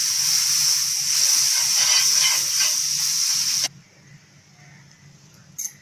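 Loud, steady frying hiss of a bread slice pizza sizzling in butter on a tawa, broad and close for several seconds, then cutting off abruptly to near quiet with a faint clatter at the end.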